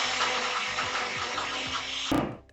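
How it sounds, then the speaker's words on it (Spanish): A kitchen blender purees cooked bayo beans for a traditional Mexican bean cajeta, a loud steady whirring motor with rhythmic chopping pulses, cutting off abruptly near the end before fading to quiet. "y licuamos hasta que quede bien finita."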